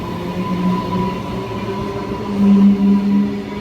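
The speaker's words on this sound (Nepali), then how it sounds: "यो ट्रेन चाहिँ लास्टै फास्ट हुन्छ" A fast passenger train in Australia runs with a steady, loud rolling rumble and a faint high whine, its pitch rising slightly near the end.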